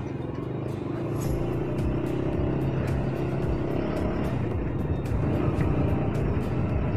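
A KTM RC sport motorcycle is ridden fast, producing a steady, loud engine drone and wind rush close by, with the pitch holding high throughout.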